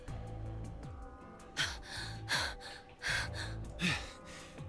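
Breathy gasps and panting from characters in the video game Zero Escape: Virtue's Last Reward, several sharp inhalations in uneven bursts over a steady music bed.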